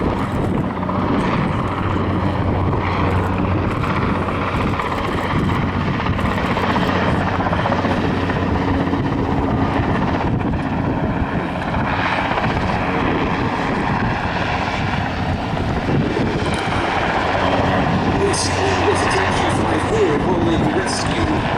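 A historic search-and-rescue helicopter flies nearby, its rotor and engine roar loud and steady throughout, a continuous thrumming wash with no pauses.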